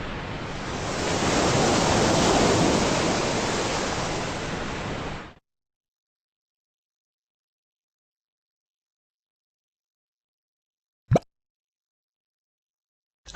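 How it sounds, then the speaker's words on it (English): A loud, broad rush of heavy sea waves crashing over a ship's decks roars for several seconds, then cuts to silence broken by one sharp knock. "This vessel is struggling through heavy seas."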